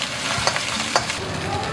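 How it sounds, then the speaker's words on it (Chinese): Egg and minced pork are stir-fried in a wok. The pan gives a steady loud sizzle, and a few sharp scraping clinks of the spatula break through it. "先把鸡蛋给它炒一炒，然后再下入肉末"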